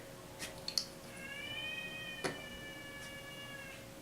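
A cat meows a couple of times nearby, one drawn-out wavering call, with a few small clicks and a quiet steady hum behind it.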